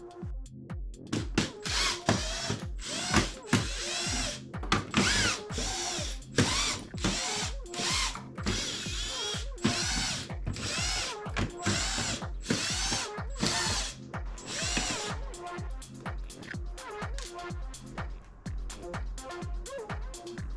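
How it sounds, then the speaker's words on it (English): A power drill backs screws out of the casing of a Pioneer DJ XDJ-XZ controller during disassembly, with repeated close whirring bursts, ratcheting clicks and short pauses between screws. "So now let's remove those screws."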